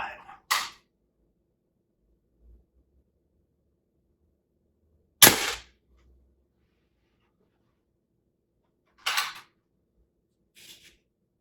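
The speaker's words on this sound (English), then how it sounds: "Very quiet gun, and absolutely no recoil whatsoever." A Ruger NGX pump air rifle fires quietly: four sharp, dry snaps spaced several seconds apart, with near silence between shots.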